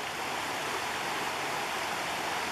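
Steady broadband rushing of a flooded river flowing along a trail in Sitka, a continuous close, loud wash of water with no voices.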